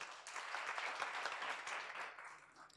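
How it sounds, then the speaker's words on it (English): An audience at an academic colloquium claps for an honored guest, a steady moderate burst of applause filling the short moment without voices. "Please give her a round of applause"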